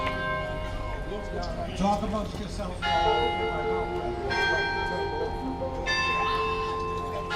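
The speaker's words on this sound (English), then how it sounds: "that's the church bell." A church bell tolls repeatedly outdoors in New York's East Village, its ringing strikes sounding clearly over a talking voice at an evening jazz gathering, each stroke leaving long resonant tones.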